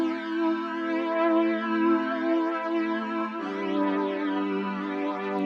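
A warm, sustained synth pad rings out in long held chords, changing once partway through, smooth and continuous without any talking.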